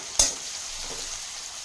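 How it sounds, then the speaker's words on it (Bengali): Green chili and onion tossed into hot oil for a Punjabi dal tadka give one sharp sizzling burst near the start, then a softer steady frying hiss that lingers to the end. "কাঁচা লঙ্কার পেঁয়াজটা আমি তেলের উপরে একটু নেড়ে চেড়ে নেব"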